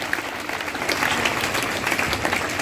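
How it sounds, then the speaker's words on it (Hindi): Applause from a crowd gathered for a test result announcement honours top-scoring student Gungun Kumari, a steady, fairly full wash of clapping that carries on for under three seconds with no voices over it. "जोरदार तालियां गुनगुन के लिए।"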